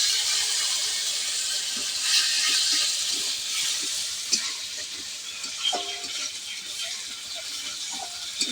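Masala spice paste with ground tomato sizzles and hisses in a pan while a spoon stirs it, giving a steady close frying crackle broken by soft scraping clicks.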